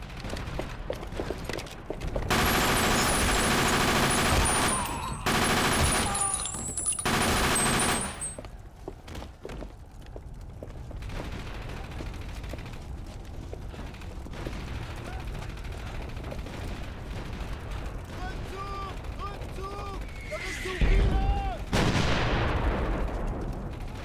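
German 88 guns fire in the Company of Heroes video game, with loud, dense bursts of heavy gunfire and mechanical clatter early on, then quieter, scattered battle noise and a sharp late blast.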